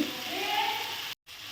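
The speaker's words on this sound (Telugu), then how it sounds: "బాగా వేగాలి ఉల్లిపాయ టమాటా పచ్చిమిర్చి కూడా బాగా వేగాలి" Onion, tomato and green chili sizzle steadily in a pan, an even hiss of frying that cuts out sharply for a moment near the end before resuming.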